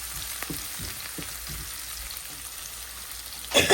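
Chopped garlic, onion and green chilies frying in oil in a pan, a steady close sizzle with light stirring taps, rising to a louder crackle near the end.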